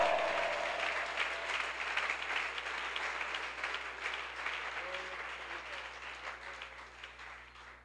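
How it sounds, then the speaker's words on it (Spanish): Congregation applause in a church service, a continuous wash of clapping under a low steady hum, gradually fading toward the end. "Dele un aplauso al Señor."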